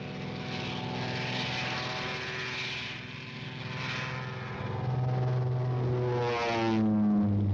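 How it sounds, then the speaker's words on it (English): Royal Air Force propeller planes drone overhead in a steady, rumbling engine roar with a wavering pitch that swells louder toward the end. "hundreds of Royal Air Force planes engaged in a non-stop aerial offensive over occupied Europe"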